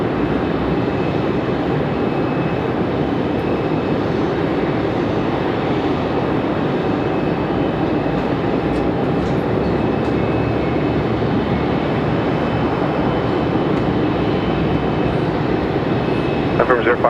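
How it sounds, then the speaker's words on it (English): A departing American Airlines heavy jet powered by Rolls-Royce Trent 800 engines roars steadily at Raleigh-Durham airport, a loud continuous broadband rumble that holds throughout, with voices talking over it. "American 174 Heavy. Enjoy the Trent 800s."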